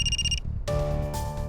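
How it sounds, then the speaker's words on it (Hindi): A phone ringtone chirps in short bright electronic bursts for a moment, then gives way to louder, busier sound. "सर, आशा के ससुर का फोन है।"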